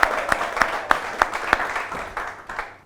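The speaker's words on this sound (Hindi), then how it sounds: "एक बार जोरदार तालियां हो संदीप जी के लिए" An audience at a Hindi poetry debate gathering claps for a poet, a steady run of sharp, evenly spaced claps at moderate volume that soften and fade toward the end.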